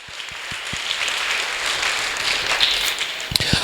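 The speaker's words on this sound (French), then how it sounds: "Acclamons d'abord très fort pour Frère Branham" A church congregation bursts into loud, sustained applause. It opens with a few distinct claps, then settles into a dense, steady roar of clapping heard close up.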